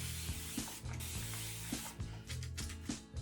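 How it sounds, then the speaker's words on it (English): A handheld spray bottle mists water onto curly hair in quick repeated pumps, a hissing spray with soft mechanical clicks from the trigger, close and fairly quiet, about a dozen bursts in steady rhythm. "I'm gonna spray my hair really fast."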